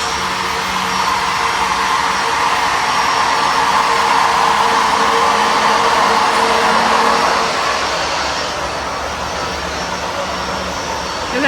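A PMC 3000L homogenizing mixer runs at 2000 RPM with a steady, loud, broadband whooshing whir, like a large fan or blower, that holds constant and then eases slightly toward the end, with no talk.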